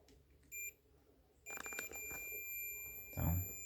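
A few short electronic beeps from a multimeter continuity test on a Nespresso Aeroccino 3 milk frother, a brief tone and then a longer sustained one, with faint handling noise around it.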